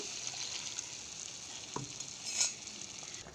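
Cumin, dried red chilli, bay leaf and a ginger-garlic-onion-cumin paste frying in oil for a Bengali duck egg and potato curry, a soft continuous sizzle with a few faint clinks of stirring.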